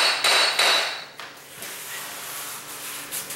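Hammer whacking against the edge of a baseboard while vinyl floor tiles are pulled up near a wall, two loud sharp knocks in the first second followed by quieter scraping and handling noise.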